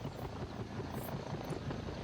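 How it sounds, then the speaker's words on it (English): A helicopter arrives in the hunting video game Prehistoric Hunt, heard as a continuous low rotor rumble and whir at moderate level throughout, with no talking over it. "There's the chopper coming in."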